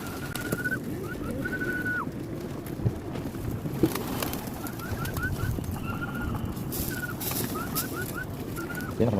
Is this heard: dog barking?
no